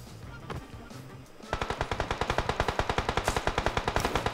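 A gun in PUBG Mobile fires a long, fast, evenly spaced automatic burst after a second of muffled game ambience, each shot loud and punchy, with no speech over the shooting.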